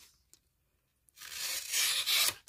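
A new, sharp Rough Ryder Stoneworx Barlow RR2403 pocket knife makes a close, raspy tearing cut lasting just over a second, after a few faint taps in near silence.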